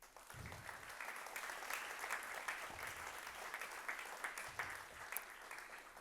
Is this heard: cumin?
no